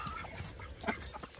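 Small ranch flock of hens and chicks feeding, with close, busy clucks and chirps overlapping in quick irregular bursts throughout the short moment.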